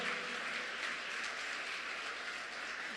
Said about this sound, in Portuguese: aplaude mesmo ao Senhor